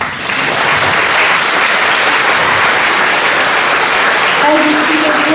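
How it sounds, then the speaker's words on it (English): Loud, sustained applause from a large audience at a high school graduation ceremony, a dense wash of clapping throughout, with a voice starting to speak near the end. "Yes, give them an applause."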